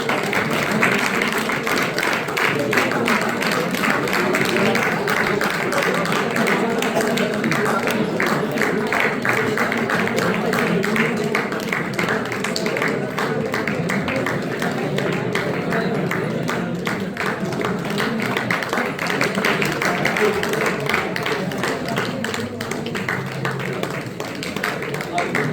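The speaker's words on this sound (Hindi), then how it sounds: "तालियां बजाते रहिए बच्चों।" Children clapping steadily at a talent award ceremony in Ayodhya: dense, sustained applause from a sizable crowd, continuing without pause for around twenty-five seconds, with a voice speaking over it.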